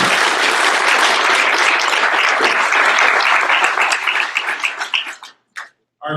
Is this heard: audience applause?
yes